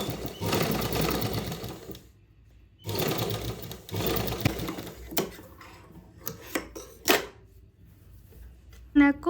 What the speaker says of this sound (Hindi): डबल सिलाई लगाएंगे।